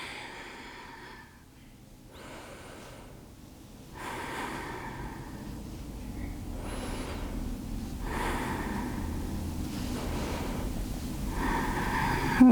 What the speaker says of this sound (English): Taking a deep inhale here, and a deeper exhale